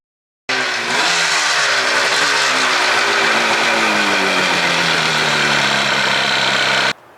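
A 1977 Yamaha RD400 two-stroke motorcycle idles loudly up close, its buzzy, raspy engine note running steadily for several seconds with a slight early wobble in pitch.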